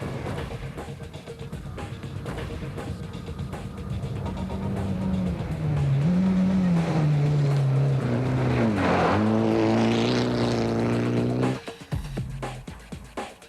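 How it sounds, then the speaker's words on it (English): A Mitsubishi race car drives flat out at over 140 mph on fast open roads. Its engine drones loudly, the pitch rising and dipping through gear changes, then it cuts off abruptly near the end. "pushes his Mitsubishi to the limit, reaching speeds of over 140 miles an hour on these fast, open roads"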